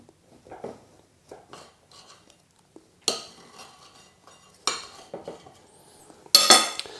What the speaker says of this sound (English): I'm just going to kind of cut this up a little bit